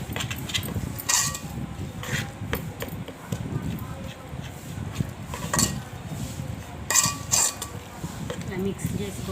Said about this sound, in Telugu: ఇలా మిక్స్ చేసుకొని బాగా మిక్స్ చేసుకోవాలి, అంతా కలవాలి